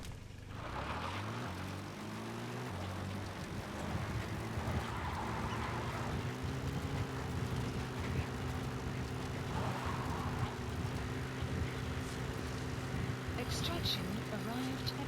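A support helicopter in the video game Metal Gear Solid V arrives with a steady rotor and engine drone that holds loud throughout, its pitch shifting slightly as it comes in.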